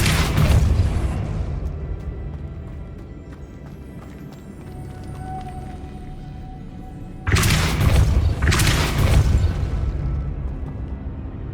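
Depulso spell casts in Hogwarts Legacy, one heavy boom at the start and another forceful double blast later, deep and loud against a low rumbling game ambience.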